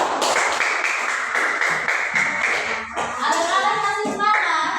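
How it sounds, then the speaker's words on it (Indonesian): Pupils in a classroom during a maths lesson clap for a classmate, a bright, rapid patter of many small hands that keeps going throughout, with children's voices mixed in toward the end. "Tepuk tangan untuk Julia."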